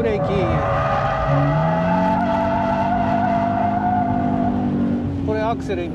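Toyota 86 drifting on a track, tires squealing in long sustained tones over a steady engine roar, close and loud, with a voice speaking over it.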